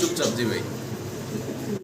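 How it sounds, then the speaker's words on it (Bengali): A pair of white Danish pigeons coo briefly and softly, close by, under a voice. "মাসাল্লাহ দর্শক ভিডিও স্ক্রিনে আমরা এক পেয়ার ড্যানিশ কবুতর দেখতেছি সাদা দবদবা দেখতে পারতেছেন"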